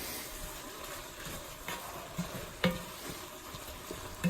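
Ground beef with chili powder cooking in a cast iron pan, a soft steady sizzle with a few clicking scrapes and taps of a spoon as it is stirred.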